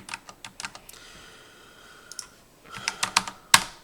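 Numbers being typed on a computer keyboard: scattered single key taps, then a quicker cluster of clicks ending in one sharper keystroke, close and clear with no talking.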